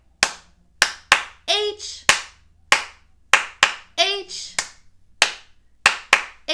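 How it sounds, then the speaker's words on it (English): Children clap their hands together in steady, evenly spaced claps at a preschool storytime, crisp and close, with short spoken letter calls in between. "Now we're going to do four claps"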